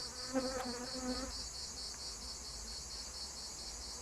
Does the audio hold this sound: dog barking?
no